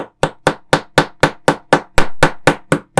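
Metal hammer blows drive a rod through a plastic part of a half-scale Giger Xenomorph alien model kit, twelve sharp, evenly spaced taps ringing out close and loud with no talk.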